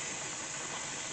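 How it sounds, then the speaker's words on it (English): Steady hiss of steam streaming from the vent of a pressure canner processing homemade chicken bone broth, a continuous broadband rush held at even loudness throughout. "stream of steam"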